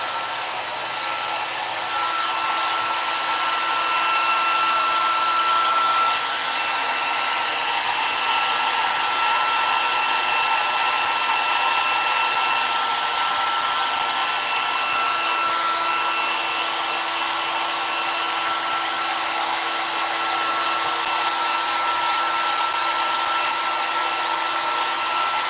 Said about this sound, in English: Maybe I should take my hair dryer to it.